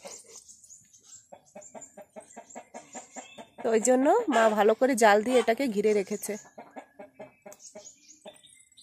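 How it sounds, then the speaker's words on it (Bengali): Chickens at a home cluck in a quick, rhythmic run of short calls. A person then talks loudly for a few seconds, and faint clucking continues after. "আমাদের বাড়িতে মুরগি আছে"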